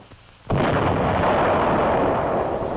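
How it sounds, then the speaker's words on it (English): An artillery salvo fires with a sudden loud boom that rolls into a long, dense rumble, with nothing but faint quiet before it and no talk. "Second salvo, 200 yards short."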